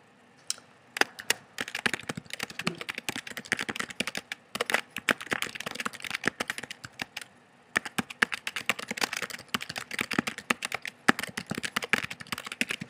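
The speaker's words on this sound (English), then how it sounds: "And I'm going to type it." Someone types a comment on a computer keyboard at close range, producing quick, irregular bursts of light key clicks with short pauses between words.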